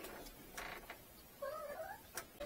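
A cat found in a van gives a short, faint meow from a little distance amid quiet background noise, with no one talking.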